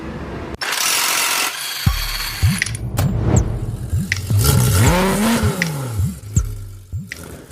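A stock BMW E46 M3 cranks and starts in a home garage, then revs with rising and falling engine pitch and mechanical clatter, loud and close with no talking.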